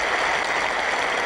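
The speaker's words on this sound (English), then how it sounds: "This crowd rise on their feet to applaud." Cricket crowd at a 1970s England Test match applauding Alan Knott's century, a dense, steady wash of clapping from a large crowd, loud and sustained without a break.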